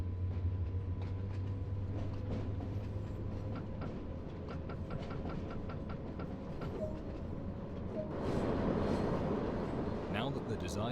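A DB BR 155 electric locomotive in Train Sim World 2020 hums as traction power rises, with a steady motor whine, rhythmic rail clicks and a louder rush of running noise building in the last seconds.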